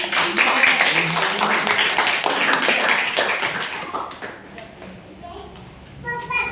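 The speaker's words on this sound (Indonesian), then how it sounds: "Tepuk tangan buat kaum ibu" A congregation at an Easter church service claps for the mothers: dense, close applause for about four seconds that then thins out, with voices mixed in.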